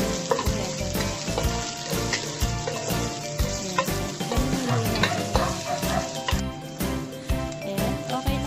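Ginger, garlic and onion stir-frying in a pan for Chinese-style chicken: a steady, loud sizzle runs throughout, broken by frequent scrapes and clinks of a stirring utensil.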